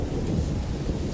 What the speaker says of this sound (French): Alors qu'elle se couchait, la foudre frappa